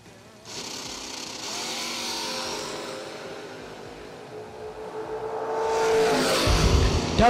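A Mustang and a Chevy II drag race cars launch at a Florida drag strip. Loud engine roar builds and holds, then swells again with a harsh surge of revving near the end.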